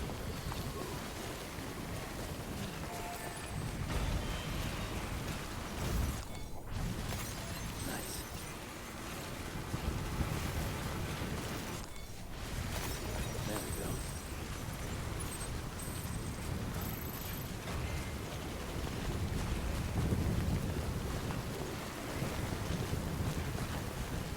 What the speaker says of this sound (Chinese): 太大了吧，这个风雨！